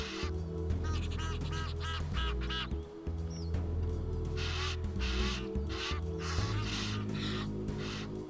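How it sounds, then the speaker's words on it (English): A pair of Egyptian geese honk repeatedly in loud, close bursts of harsh, nasal calls, with brief pauses between volleys, heard outdoors on a street. "trying to psych out a pair of Egyptian geese"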